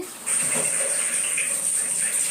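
A tap runs steadily for rinsing washed-up dishes, a close, even stream of gushing water with a bright hiss that starts just after the beginning and continues throughout.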